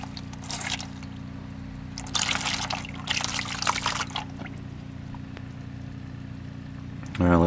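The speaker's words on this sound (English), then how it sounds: "Alright, let that drain all out," Transmission fluid draining from a Mazda CX-5, heard as intermittent splashy trickling bursts over a steady low hum, close by, with quiet stretches between pours.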